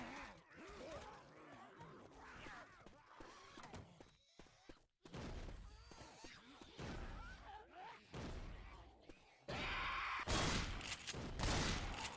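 Shotgun fire tearing through walls in a Left 4 Dead 2 one-on-one match, repeated sharp blasts and bursts scattered across the clip amid grunts, gasps and game noise, loudest near the end.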